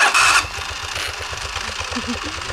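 A motorcycle engine cranks and catches in a short burst, then settles into a steady mid-pitched idle with small revving pulses, close by and without speech.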